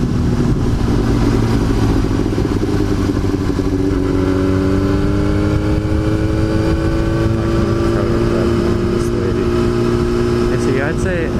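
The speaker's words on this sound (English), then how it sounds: "I'm on like a crazy loud sport bike, crazy loud super sport" A loud Yamaha R6 super sport motorcycle drones steadily while riding, its engine pitch slowly rising and falling, under continuous wind rumble, with a rider talking over it.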